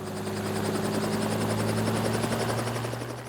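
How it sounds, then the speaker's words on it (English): A helicopter flies low over land beside a Kenyan wildlife reserve, brought in to push elephants back toward the conservation area; its steady rotor thrum and engine buzz stay loud and continuous throughout, with no voices. "They've decided to bring in a helicopter"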